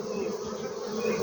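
Honeybees buzzing at a hive, a continuous close, steady drone of many wings with no talk.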